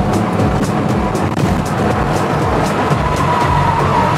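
A car with a manual gearbox run without oil slides out of control on a wet road, with a loud, continuous close roar of engine and tyre noise throughout and no talk.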